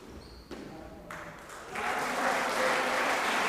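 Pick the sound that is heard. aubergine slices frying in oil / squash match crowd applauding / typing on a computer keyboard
squash match crowd applauding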